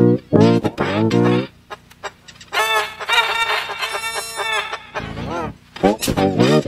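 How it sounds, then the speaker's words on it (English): Rooster crowing and chickens clucking on a farm, with repeated loud, close calls interspersed with bursts of clucking throughout. "Go to the red rooster."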